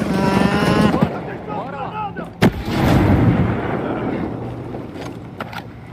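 Gunfire and explosive blasts in a shooting video game, a loud sharp shot cutting through rumbling battle noise, with excited players talking over it.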